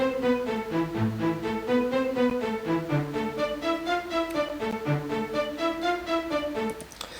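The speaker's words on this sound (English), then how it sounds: "I just played the same melody, the exact same as the main piano melody, but I just played it with the staccato strings" Staccato strings from FL Studio's Flex play a repeated clipped melody doubled on piano in a trap beat, with short even plucked notes stepping through a melodic line at a steady tempo and no voices.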